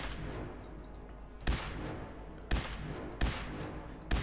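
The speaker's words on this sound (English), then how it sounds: "Put three rounds into her anyway" Four sharp gunshots from Fallout 4 combat crack at irregular intervals over a steady background hum, each a loud broadband burst with a short decay, no talking heard.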